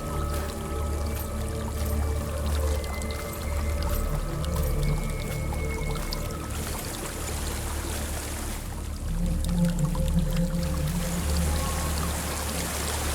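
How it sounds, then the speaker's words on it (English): A waterfall roars steadily in the video game Hellblade: Senua's Sacrifice, a loud, dense, unbroken rush of falling water with faint tonal ambience beneath and no talk. "There's a waterfall."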